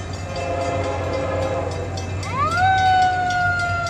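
An FEC freight train, number 222, rumbles past with a steady low drone, then its horn sounds a long, loud, sustained two-tone blast that rises in and holds.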